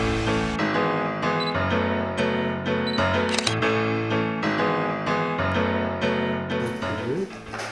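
Camera shutters click during a photo shoot, brief sharp snaps heard among continuous loud background music.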